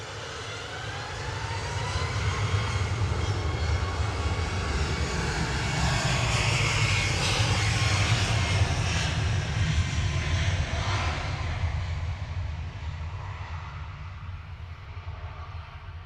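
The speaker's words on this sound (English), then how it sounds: "As Ryanair heads off to Paphos." A Ryanair airliner takes off at Manchester Airport with a loud, sustained engine roar that swells to a peak mid-way, then slowly recedes into the distance.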